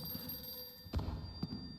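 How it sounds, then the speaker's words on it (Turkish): A telephone rings in the library level of the horror video game The Classrooms. The ring repeats in short bursts over faint background hum, with a couple of soft thuds mixed in. "Telefon çalıyor."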